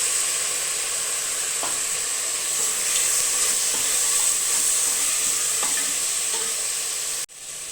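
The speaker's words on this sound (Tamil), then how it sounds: "இந்த இஞ்சி பூண்டுலேயே வந்து மட்டன் போட்டு வதக்கிட்டோம்னா நல்லாயிருக்கும்" Mutton sautés in ginger garlic paste in a pan, a loud continuous sizzle with a few soft clicks of stirring, close and steady until it cuts off abruptly just before the end.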